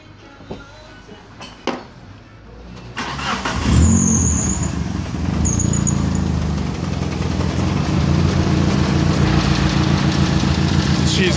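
A Mitsubishi 4G18 DOHC engine cranks and catches after a few clicks and a squeal, then settles into a loud, close, uneven idle that runs rough and steady to the end.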